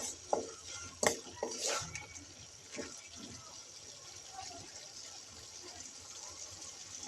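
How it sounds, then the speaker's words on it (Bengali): A utensil scrapes and clinks against a pan while bitter gourd and chicken feet curry is stirred, with a few sharp knocks early on and a quiet sizzle of simmering liquid underneath, fairly faint throughout. "আমি আবারও একটু নেড়ে দিলাম।"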